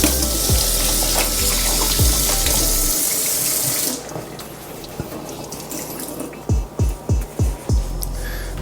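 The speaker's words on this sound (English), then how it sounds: "And then you wash your hand" Tap water runs loudly into a sink while hands are washed during the making of Jamaican dukunu, the stream cutting off halfway, followed by a run of close, quick splashes and drips.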